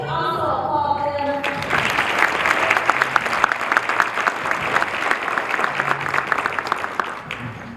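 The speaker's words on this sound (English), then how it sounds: "Can we also applaud them?" An audience at an awards celebration breaks into applause, with dense, sustained clapping that builds after a brief moment and carries on steadily before tapering off near the end.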